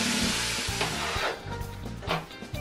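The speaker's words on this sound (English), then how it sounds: "So I'm going to saute these veg and brown this beef off" Vegetables sauteing and ground beef browning together in a pan for chili, a dense close sizzle that starts loud and eases slightly, with a few stirring knocks and no talking.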